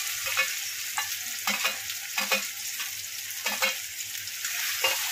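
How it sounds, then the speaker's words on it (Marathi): Tomatoes and green chilies fry in oil for a yellow potato curry, a steady sizzle broken by the regular scrape and tap of a spoon stirring in the pan, close by with no talking. "थोडासा टमाटर हलका फ्राय झाला की आपण ह्याच्यामध्ये घालायचे लगेच हिरवी मिरची।"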